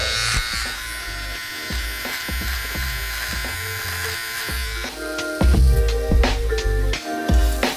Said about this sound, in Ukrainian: А те, що залишилось, можна підрівняти OneBlade